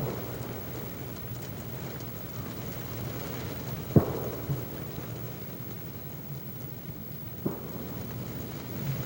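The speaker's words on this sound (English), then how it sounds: "The way the rain was coming down" Heavy rain pours steadily on an outdoor white-tail deer hunt in Michigan's Upper Peninsula, a dense continuous hiss throughout with a couple of sharp distant knocks or cracks standing out partway through.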